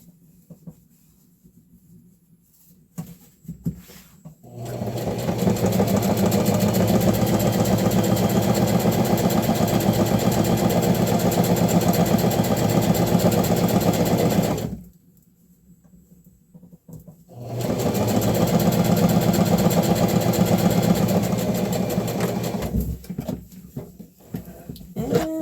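Sewing machine stitching a seam on thrifted bed-sheet fabric for a peasant blouse, running in two steady bursts of about ten and six seconds separated by a short pause, with handling noises before and after.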